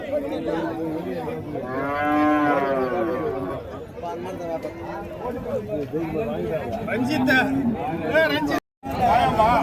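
Draught bullocks low repeatedly at the Uthangarai cattle market in Tamil Nadu, a long harmonic moo rising near the start over a steady hubbub of crowd chatter and voices, with a brief dropout near the end.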